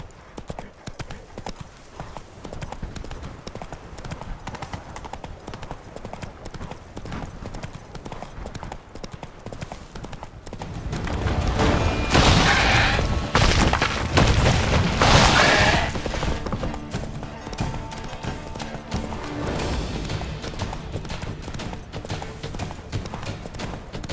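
Horse hooves in The Witcher 3, a steady clip-clop gait of a ridden horse throughout, swelling louder with a rush of wind-like noise in the middle before settling back, no talk.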